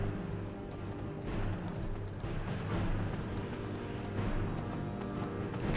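Horse hooves clip-clopping in the video game Skyrim, a steady walking rhythm of hoofbeats over a low ambient game hum, moderately quiet throughout.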